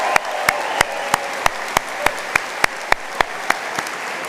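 At a university autumn conferring ceremony, applause for the graduates comes through as sharp, evenly spaced claps, about three a second. They sound more like a few pairs of hands than a full hall.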